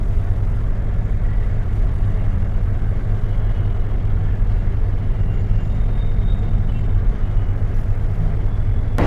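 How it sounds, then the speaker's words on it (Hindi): A street traffic jam in India: a constant dense rumble of engines and vehicles, loud and close, with no talk. "और ये देखो ट्रैफिक, मतलब क्या करें इस ट्रैफिक का, यहाँ पे हर वक्त जैम रहता है।"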